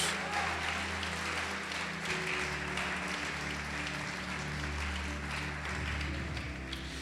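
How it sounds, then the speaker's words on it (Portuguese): A church congregation claps and praises in steady, continuous applause, somewhat distant and moderate in level, with voices and a low sustained tone running underneath. "Pode aplaudir e glorificar Jesus."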